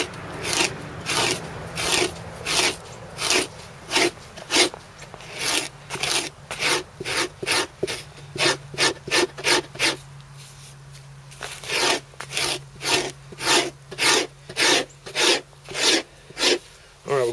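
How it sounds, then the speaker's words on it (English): A hand scraper rasps across a log's surface in a steady series of short, loud scraping strokes, quickening mid-way with a brief pause before resuming at an even rhythm. "we'll come back and scrape over the whole thing in different directions so that we're not all making stripes all in one direction"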